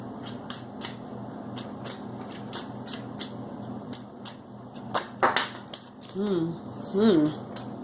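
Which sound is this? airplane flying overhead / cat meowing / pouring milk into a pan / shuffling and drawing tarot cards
shuffling and drawing tarot cards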